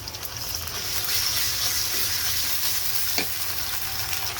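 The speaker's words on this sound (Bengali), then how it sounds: "এখন আমি তেলে আদা রসুন বাটা আমি দিয়ে দিচ্ছি পরিমাণ মতন" Ginger garlic paste sizzles and fries steadily in hot oil in a pan, a continuous crackling hiss heard up close with no talk.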